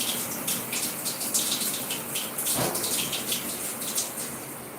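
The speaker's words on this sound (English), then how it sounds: "Let me wash my hands now." Hands washed under a running kitchen tap, a steady close gush of water splashing into the sink, constant and fairly loud throughout with no voices.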